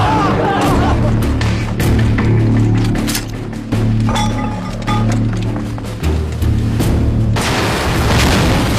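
Film sound of artillery pieces being blown up in a wartime battle scene, a continuous loud rumble of blasts and booms with clinking debris and shouting voices mixed in.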